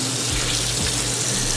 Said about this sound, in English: I'm going to run it under some cold water